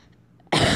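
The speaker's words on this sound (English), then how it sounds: "don't like coughing into the mic" A single sharp, loud cough bursts out after a brief quiet moment, close to the microphone.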